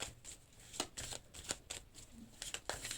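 Tarot cards shuffled and drawn at close range, a quiet series of quick papery riffles and flicks in an irregular rhythm, with no talking.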